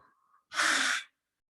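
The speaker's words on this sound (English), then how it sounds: "Last one, biggest one of the day. Inhale. Exhale." One deep breath during a yoga session, a faint intake followed by a loud, airy exhale of about half a second, close and alone, then silence.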